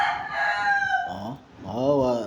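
A rooster crows loudly and close, with drawn-out rising and falling calls, and chickens cluck alongside it.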